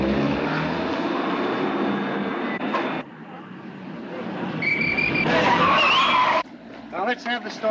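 Radio drama car chase effect: a loud engine roar with tyres screeching in rising squeals, a brief drop-off and then more skidding whines, carrying on beneath dramatic dialogue.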